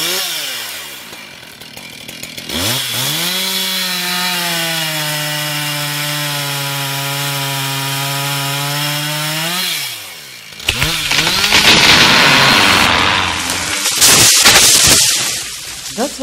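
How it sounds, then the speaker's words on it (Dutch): A chainsaw fells a larch tree for timber in Almelo. The engine climbs into a loud, sustained whine, holds steady, then drops before the rougher, gritty roar of the chain biting into the wood. "Zo zaagt en de andere keer zo zaagt."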